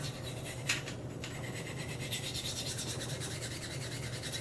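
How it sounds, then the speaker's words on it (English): A knife blade rasps freehand along a fine whetstone in steady, close back-and-forth strokes, a soft continuous scraping with a couple of brief sharper scrapes early on. "I just find my bevel and I hold my angle consistently and I just work my way up and down the stone"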